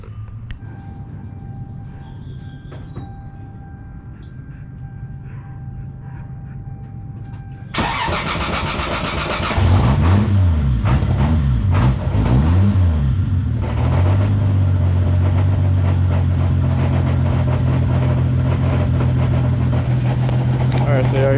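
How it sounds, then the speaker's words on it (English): A quiet hum gives way to a Toyota MKIV Supra engine starting up and running with a loud, steady mechanical whine and grinding drone from the transmission. "the noise that is coming out of the transmission"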